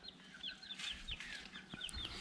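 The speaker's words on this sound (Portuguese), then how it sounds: "Vou mostrar aqui pra vocês as galinhas." Hens with three young chicks cluck and peep in a farmyard, with a steady run of short, close chirps and clucks and no talking.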